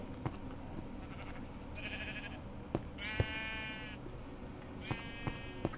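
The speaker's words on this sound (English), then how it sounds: "Is there any more white sheep?" Sheep in Minecraft bleat in several short calls spaced a few seconds apart, fairly close and clear over quiet game background with occasional soft clicks, no talking.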